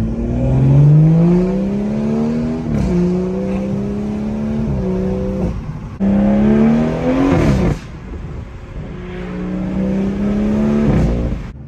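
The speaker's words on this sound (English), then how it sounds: "All right, here's like half throttle." Tuned stage 2+ BMW M240i on 93 octane accelerating at half throttle, its engine note rising steadily through several gear changes with brief dips between shifts, loud and close, with no talk.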